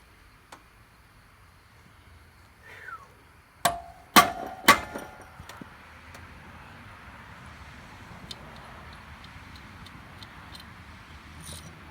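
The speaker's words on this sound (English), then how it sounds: "I tapped it a few times, then I rotated it." A hammer taps a bolt on a Coleman Powermate with a broken governor, giving three or four sharp metallic strikes in quick succession followed by faint scattered clicks in a quiet space.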